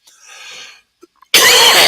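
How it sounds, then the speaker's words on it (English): A single sharp, loud cough bursts in near the microphone after a quiet stretch with faint murmurs. "I got a cough again."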